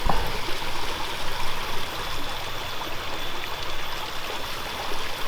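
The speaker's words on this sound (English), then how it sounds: "But that's flowing well. Yes, the creek is well up." Steady rushing creek water flows and babbles continuously, close by and fairly loud, with no voices.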